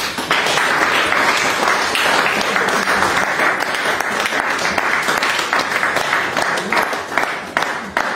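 A church congregation applauds at a baptism service, dense sustained clapping from many hands filling the room at close range for the whole stretch, loud and unbroken.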